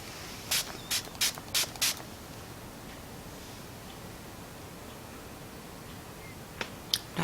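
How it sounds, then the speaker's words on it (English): A fine-mist cosmetic spray bottle spritzes five times in a quick, even series of short hissy bursts, close and clear, then two more isolated spritzes near the end in an otherwise quiet room. "The mister is good. It's a fine mist."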